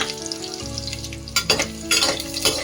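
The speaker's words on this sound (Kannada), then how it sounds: "ಸ್ವಲ್ಪ ತುಪ್ಪ, ಜೀರಿಗೆ ಸಿಡಿದ ಮೇಲೆ ಪತ್ರಿ ಇದು ಹಾಕ್ತಾ ಇದ್ದೇನೆ. ಹಾಗೆ ಆನಿಯನ್ ಹಾಕ್ತಾ ಇದ್ದೇನೆ." Onion, cumin and herbs frying in ghee in a pan, a steady close sizzle with a few louder bursts of crackle as ingredients are stirred, no voices.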